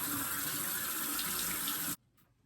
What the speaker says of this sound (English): And I rinse my face with cold water, so that way it smooths out my skin.